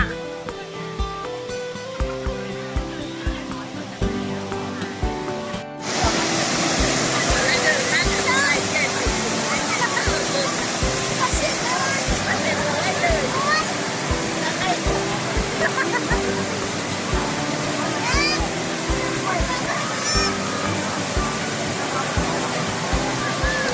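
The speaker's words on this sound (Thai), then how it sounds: "ดูบริเวณโดยรอบน้ำตกถ้ำพระ" Tham Phra waterfall in Bueng Kan, Thailand, a natural rock slide, roars with loud steady rushing water that fills the scene after a brief quieter opening, with people talking over the torrent.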